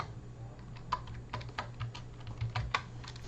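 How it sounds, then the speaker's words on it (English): Keys clatter on a computer keyboard in an irregular run of quick, close taps and clicks, moderately quiet over a low steady hum, with no talking. "Nice typing ASMR."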